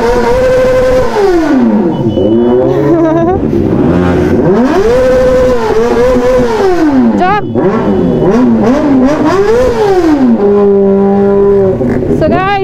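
A Honda CBR 600 RR motorcycle ridden on a group ride through Kathmandu, its engine loud and close, revving up and down through repeated rising and falling gear changes, with constant wind noise.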